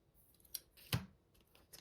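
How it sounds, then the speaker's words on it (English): Scissors snip the corners of a paper sticker in a few quiet, close crisp cuts, one clearly louder snap standing out in a near-silent room. "This is a sticker. Just cut the corners a little bit here."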